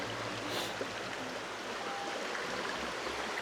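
A river flows beneath a bridge at Citalahab, Bogor, a steady broadband rush of moving water holding at an even level throughout, moderately close with no voices over it.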